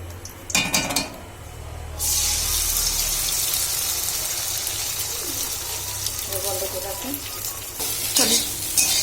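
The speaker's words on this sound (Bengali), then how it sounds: "আমরা ভেজে নেব গরম হয়ে গেলে ওই ডিমগুলো দিয়ে দেবো" Eggs frying in hot oil in a pan for egg chowmein, a loud continuous sizzle that bursts in after a quiet start and holds steady, with a few scraping clatters near the end.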